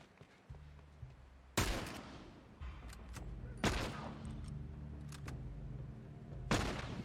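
Gunfire in The Last of Us, with several loud sharp shots spaced a second or two apart over a low rumbling game ambience.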